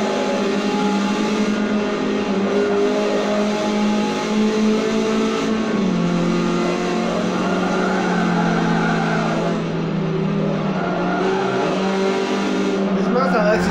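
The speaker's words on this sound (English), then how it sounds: "This Mazda is kind of, it wants to drift a little bit." A Mazda MX-5 Cup race car in Forza Motorsport 7, its engine revving hard with rising and falling pitch and tires squealing as it slides, loud and continuous.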